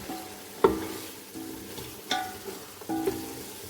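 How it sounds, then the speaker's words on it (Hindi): Chicken pieces frying in a pot for white degi pulao, with soft steady sizzle broken by three distinct scraping stirs of a spoon against the pot, close and moderately loud, no voices. "अब मैं चिकन को इसमें अच्छी तरह 5 से 7 मिनट फ्राई कर लेती हूँ,"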